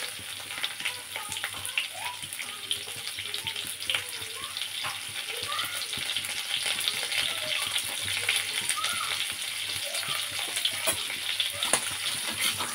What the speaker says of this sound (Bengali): ফোড়ন দিয়ে এবার কপিটা ছেড়ে দেবো